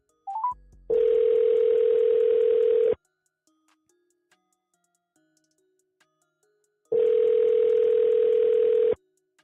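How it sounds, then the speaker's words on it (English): A phone call ringing out: a short tone blip, then two long steady ringback tones a few seconds apart, clear and alone with no talk. "I'm going to call this boy right now."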